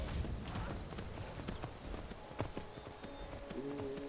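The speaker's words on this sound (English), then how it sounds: "Fly, horsey, fly." Horse hooves clip-clop steadily in the video game Skyrim, a close, moderately loud run of regular hoofbeats with a brief neigh.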